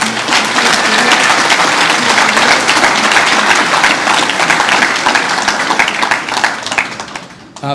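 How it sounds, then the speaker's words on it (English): Loud, dense audience applause at a harness racing Hall of Fame ceremony in New York, sustained and even for several seconds before tapering off at the end. "I think we should give him a round of applause"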